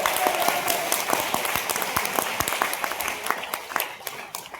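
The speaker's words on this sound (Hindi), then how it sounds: "ताली बजाते रहिएगा आप लोग, बजाते रहिए।" Steady applause from an audience at a comedy talk, many hands clapping continuously and fading slightly toward the end.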